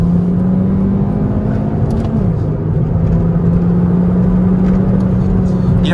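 Mini Cooper Coupe S with a turbo engine accelerating from inside the cabin, a loud steady engine drone that climbs, dips briefly around a gear change, then holds and pulls again.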